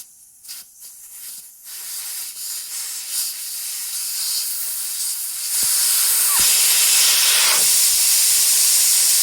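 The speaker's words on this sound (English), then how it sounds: "we're going to take out the valve stem valve and let all the air out of it" Air hisses out of a truck tire through the opened valve stem while the bead is being fixed, a steady loud rush that starts faint and swells into a strong continuous spray of air, with no talking.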